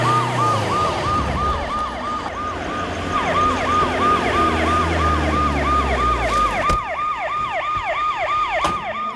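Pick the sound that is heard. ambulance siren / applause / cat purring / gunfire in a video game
ambulance siren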